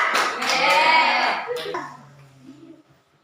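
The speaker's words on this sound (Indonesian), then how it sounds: "tepuk tangan dulu untuk kita semua" Schoolchildren in a classroom clap their hands together in a loud, dense burst lasting over a second. Voices and cheering mix in, and the sound tapers away into quieter scattered sounds.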